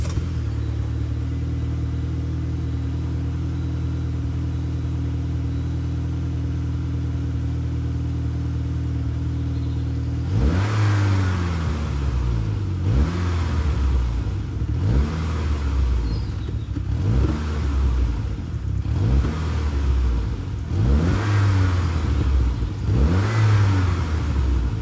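Saab 9-3 Viggen engine idling with a low steady rumble, then revved hard in a series of about seven sharp blips with exhaust bark, each rising and falling back, loud and close with no talk.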